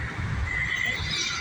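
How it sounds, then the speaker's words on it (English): A horse in Jamaica gives one close neigh lasting about a second, loud against faint background noise. "Horsey!"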